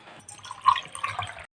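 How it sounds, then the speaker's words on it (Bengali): Water poured into a container in a home kitchen, a soft trickling and dripping splash lasting about a second and a half, quiet and close with no talk. "আর ইয়া জল ঢালো এখানে।"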